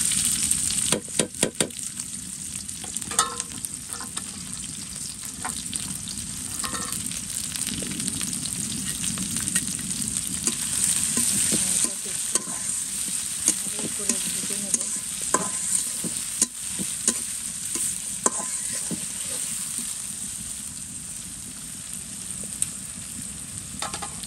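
Chopped onion and green chili fry in a pan with cinnamon and cardamom, a continuous crackling sizzle broken by frequent stirring clatter and scraping, close and fairly loud throughout.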